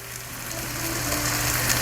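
Broth poured into a hot pan of garlic rosemary chicken, giving a steady, close, continuous sizzle with no talking.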